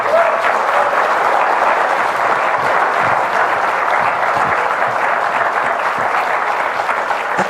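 A convention audience at a pony fan event applauds its two show-writer panelists with steady, dense clapping from a large crowd, even and continuous throughout.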